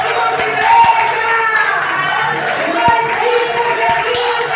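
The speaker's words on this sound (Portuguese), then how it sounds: "Aplaude Jesus, igreja." A church congregation claps their hands in praise, a busy, uneven patter of many hands with a murmur of voices and a speaking voice underneath, close and fairly loud.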